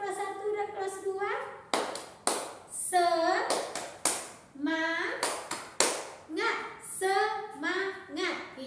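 Schoolchildren in a combined grade 1 and 2 class clap a rhythmic spirit routine, bursts of claps alternating with sung chanted phrases from the young voices, lively and close.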